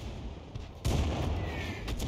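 Tank cannon fire in a World of Tanks-style battle involving a 105 leFH18B2 and a KV-1, one heavy boom erupting from a quieter background and rumbling on, with a faint second blast near the end.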